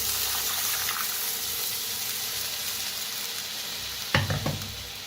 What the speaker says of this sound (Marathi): जे ताक आपण हलवून घेतलं होतं दही ते ओतूया.